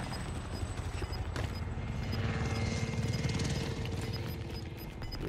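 A supply helicopter flies in the Call of Duty Modern Warfare game, its steady rotor chop throbbing low and continuous, fairly loud, alongside a few faint game beeps and clicks, with no talking.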